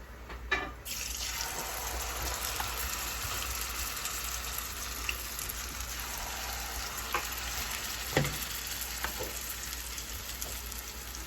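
Cornbread patties frying in a pan of hot oil, giving a steady, close, broadband hiss and crackle throughout, with occasional faint clicks from a spoon against the pan.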